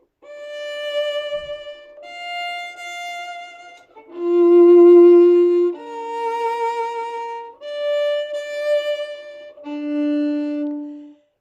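Violin phrase bowed as separate, detached notes, each pitch held briefly and stopped before the next, about six distinct notes at a moderate steady pace, close and clear with no talking.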